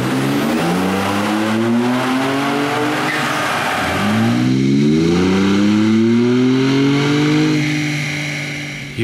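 A 2011-2014 Ford F-150 pickup with a 3.5L EcoBoost V6 and a JMS BoostMAX tuner revs loudly toward redline, its engine tone climbing in pitch through two long pulls, close and steady with no voices.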